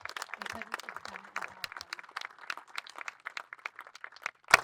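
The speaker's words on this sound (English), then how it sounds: "have another round of applause for our congressional delegates" Audience applause at an outdoor groundbreaking ceremony for a conservation center, a crowd clapping steadily and moderately loud throughout, with a brief voice early on and a sharp louder burst near the end.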